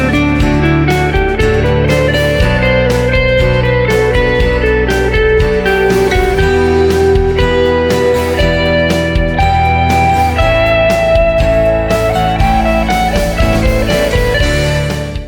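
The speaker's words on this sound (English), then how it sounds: "I'm now going to solo over top of it using the D mixolydian scale" A lead solo in D mixolydian over a blues chord progression, with steady, dense melodic lines that ride continuously over the backing chords for the whole stretch, loud and with no talking.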